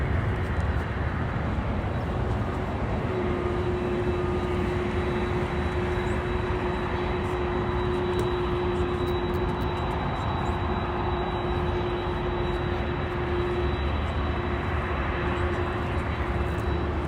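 A Boeing 767-400 jet rolls for takeoff on runway 24 Right at Los Angeles International Airport, a steady, loud engine roar with a sustained tonal whine that holds throughout.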